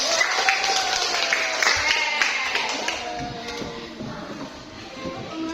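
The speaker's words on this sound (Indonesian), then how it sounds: "Ya boleh duduk, tepuk tangannya dulu." A group of children in a classroom claps hands in a quick scattered burst, many small slaps overlapping, fairly close, tapering off toward the end.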